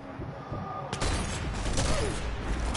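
Video game gunfire: a dense, continuous rattle of shots and impacts kicks in abruptly after a quieter opening and carries on loudly, with talk mixed in.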